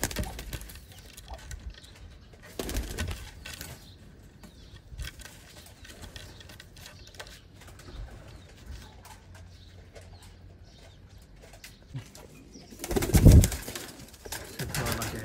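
Teddy pigeons coo faintly in a loft as a pair sits side by side, soft low calls scattered over the quiet, broken by a few handling bumps and a loud clattering burst near the end.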